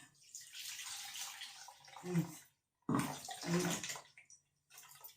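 Water is poured up close in a kitchen and run through a strainer while cooking, with two splashing bursts separated by short pauses and a brief trickle at the end.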